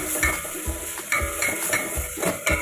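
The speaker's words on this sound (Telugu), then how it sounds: "ఆనియన్స్ ఇలా వేగుతున్న తర్వాత 1 స్పూన్ అల్లం వెల్లుల్లి పేస్ట్ వేసుకొని వేగించుకుందాం." Onions frying with ginger garlic paste in a pan for veg pulao, a steady sizzle broken by rhythmic scraping stirs every half second or so, close and fairly loud.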